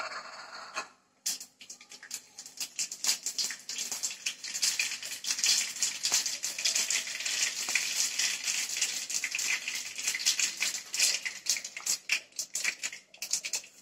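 Mustard seeds and curry leaves sizzling in hot oil for a tempering, a dense crackling spatter that starts after a brief pause and keeps popping rapidly and close for several seconds.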